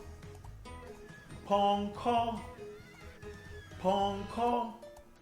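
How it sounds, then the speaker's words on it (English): A horse whinnies twice in two long, loud neighing calls with gaps between them, heard on an animal farm. "The horse gallops."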